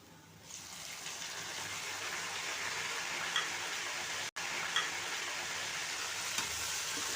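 Sliced tomatoes fry in ghee with garlic, ginger and onion, giving a soft, even sizzle that starts suddenly and holds steady, with a few faint stirring clicks and no talking.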